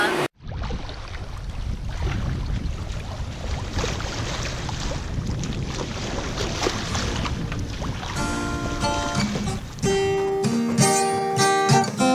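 A sailboat cruises across the Gulf Stream at about 7.7 knots, giving a steady loud wash of water and wind rumble throughout, with a brighter tonal hum and clatter joining near the end.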